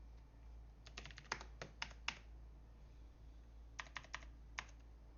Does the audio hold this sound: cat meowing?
no